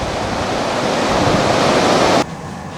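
Open-ocean waves wash steadily past a ship sailing away from Greenland on an Arctic polar expedition, a loud, continuous broadband rush with wind, cutting abruptly quieter near the end.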